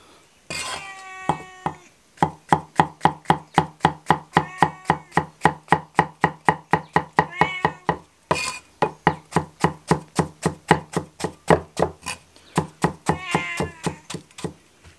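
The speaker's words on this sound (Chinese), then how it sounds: "嫩的菌子能不能切薄一点，老的就切厚一点" A knife chops wild mushrooms on a board with a fast, steady rhythm of sharp close taps, pausing briefly twice before resuming.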